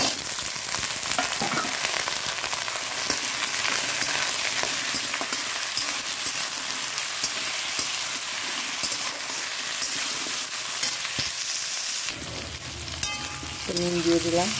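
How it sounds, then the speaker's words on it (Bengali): Potatoes and onion sizzle in a frying pan while being stirred, a dense steady crackle close by with occasional scrapes, shifting near the end when a brief tonal sound cuts in. "পেঁয়াজটা ভাজা হয়ে গেল, আলুটা দিয়ে দেবো।"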